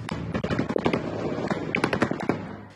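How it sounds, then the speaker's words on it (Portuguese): Rapid, irregular bursts of gunfire during a police operation in Rio de Janeiro, sharp cracks in quick succession echoing at a moderate distance, with no voices. "Mesmo embaixo de tiros"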